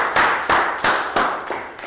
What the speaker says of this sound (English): Big round of applause for Prel for demonstrating.